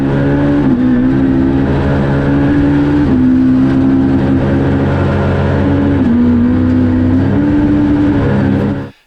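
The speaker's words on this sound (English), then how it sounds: "sequential gearboxes are so fast and so good. We've got the electronic shifter knob here, so you can flat shift." Loud, close engine of a Datsun P510 race car fitted with a Hollinger sequential gearbox, revving hard and climbing through gears with quick flat shifts, each change a brief dip before the note rises again, then cutting off at the end.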